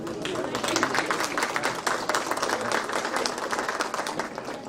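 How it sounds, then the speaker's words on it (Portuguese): Audience applause at an electoral conference, steady dense clapping from a crowd that continues at an even level across the whole stretch. "López Rocha de la República de Bolivia, para quien pido un fuerte aplauso"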